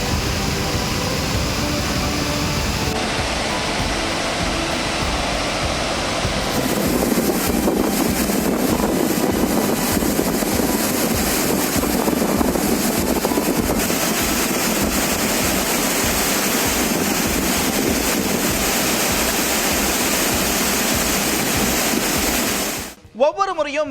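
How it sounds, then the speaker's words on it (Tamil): Water released from the Mettur dam gushes in a continuous, loud, broad roar, mixed with wind buffeting the microphone, holding steady for a long stretch before cutting off abruptly at the end. "மேட்டூர் அணை முழு கொள்ளளவை எட்டி இருக்கு. அதனால பாசனத்திற்காக ஏற்கனவே தண்ணி திறந்து வச்சிருக்காங்க."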